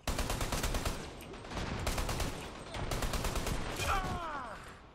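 Dense rapid gunfire from the shooter game Dirty Bomb, bursts of close shots firing in quick strings with brief gaps, amid in-game battle noise and no talk.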